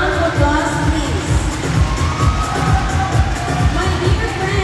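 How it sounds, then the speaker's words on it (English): Audience at a school Mr. & Miss pageant claps and cheers steadily after a contestant pair is introduced, a dense continuous crowd roar with children's shouts mixed in throughout. "A round of applause, please."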